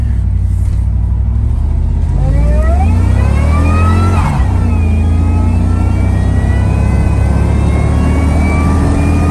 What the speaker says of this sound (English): I don't like going wide open throttle from a dead stop, because when I do, my truck wheel hops a lot more than normal with the tune.